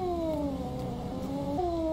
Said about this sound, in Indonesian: Hati-hati, ini kucing galak.